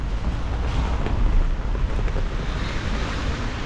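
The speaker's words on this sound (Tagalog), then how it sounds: "At ngayon naman lakas ng ulan" Heavy rain pouring outdoors in Paris, a dense, steady roar of broadband noise with a hint of wind rush, loud and continuous throughout with no voices.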